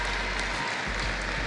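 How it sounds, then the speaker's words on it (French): Loud, dense applause from a crowd cheering the tennis club team at a French championship ceremony, a steady roar of clapping that fills the whole brief moment with no pause. "je demande de les applaudir encore une fois très très fort"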